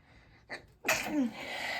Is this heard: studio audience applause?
no